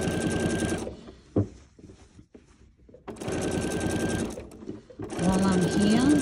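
A sewing machine stitches free-motion quilting around an appliqué circle on a quilt, running in three loud, steady bursts with short pauses between them.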